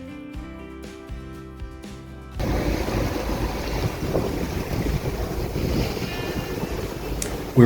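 A sailboat beating close-hauled through ocean swell off Scandinavia, with steady rushing water and heavy wind buffeting the microphone. A brief, quieter tonal passage comes first, and there is no talking.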